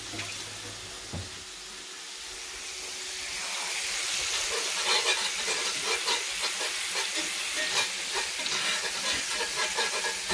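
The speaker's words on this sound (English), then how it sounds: "Just stirring up the gravy a little." Shrimp and bacon gravy stirred in a pan over low heat, a steady close sizzle with repeated soft scraping strokes of a utensil that builds and holds for several seconds.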